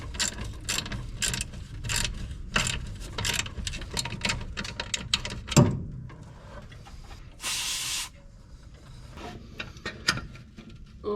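Tools working on engine bolts of a 1964 Daihatsu Hi-Jet cab: a run of quick, close metallic ratchet clicks in bursts, a sharp clank partway through, then a brief hiss and scattered lighter clicks and scrapes.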